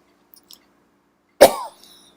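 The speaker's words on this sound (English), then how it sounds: "I'm sorry, I got a cough" A single sharp cough bursts out close to the mic, with a short raspy tail, after a moment of near silence.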